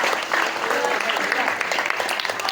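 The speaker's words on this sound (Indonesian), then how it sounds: "Tepuk tangan buat saya" Audience applause at a motivational seminar for young people in Banten, dense steady clapping throughout with some voices mixed in.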